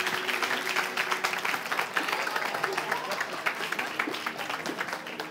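Applause from an audience at a French-language animated event, a lively, fairly dense clapping that stays steady and close throughout, with a faint voice briefly underneath.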